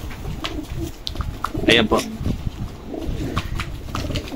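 Opal line pigeons coo in soft, low murmurs close by, mixed with a louder burst of calling, under a person's speech.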